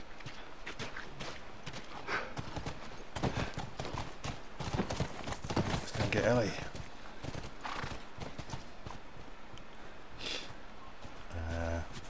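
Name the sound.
horse hooves and neighing in The Last of Us video game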